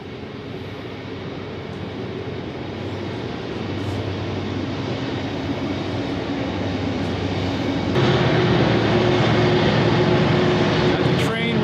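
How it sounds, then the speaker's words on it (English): A heavy, steady rumble of a train passing through the center of Auburn, California rolls along without pause, swelling noticeably louder partway through and staying loud to the end. "Got the train rolling right through the center of town there."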